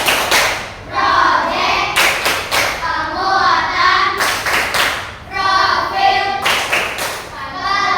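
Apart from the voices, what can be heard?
class clapping rhythmic hand-clap routine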